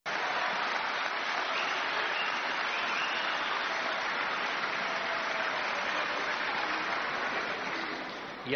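Sustained, dense applause from a large audience at a speech by Javier Milei, steady and loud throughout before tapering slightly at the end, with no talking over it.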